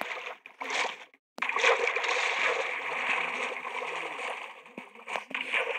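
Swimming splashes in Minecraft form a steady, rushing wash of water sound that drops out briefly once, then carries on loud and continuous.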